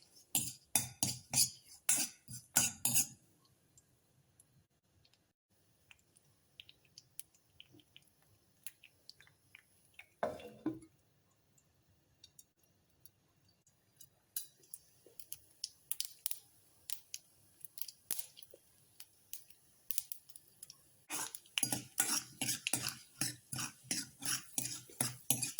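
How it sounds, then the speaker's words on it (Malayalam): Mustard seeds and chilli spluttering in a tablespoon of hot oil in a small pan, dense crackling pops in bursts, loud at first, sparse in the middle, then rapid again, close and with no voices. "ഇത് കടുക് പൊട്ടട്ടെ"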